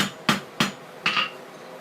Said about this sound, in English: Where on the anvil you hit is important as well.